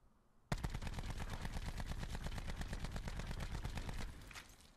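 The Rampart 17 rifle in Call of Duty: Black Ops 4 fires a rapid full-auto burst of about thirty shots, loud sharp evenly spaced cracks running for three and a half seconds before cutting off into a fading tail.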